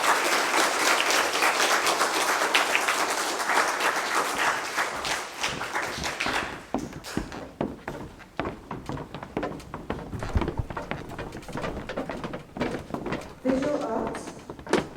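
Audience at a Grade 4 school prize-giving applauding award-winning children, full clapping for about six seconds that thins to scattered claps, knocks and shuffling, with people talking underneath.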